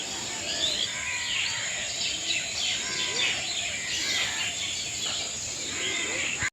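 Birds call and chirp in the early morning outdoors, a steady chorus of high twittering close and far with faint insect buzz beneath, no talking.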